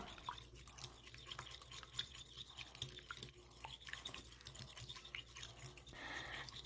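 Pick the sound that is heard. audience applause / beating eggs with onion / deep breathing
beating eggs with onion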